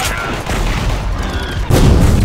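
A grenade detonates in the online shooter Metro Conflict, a loud, dense burst of blast noise and gunfire crackle that swells sharply near the end, close and forceful.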